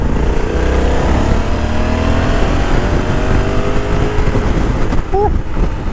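Honda Africa Twin DCT motorcycle in sport mode gives a loud, steady engine roar with heavy wind rush while riding, and a voice is briefly heard over it near the end.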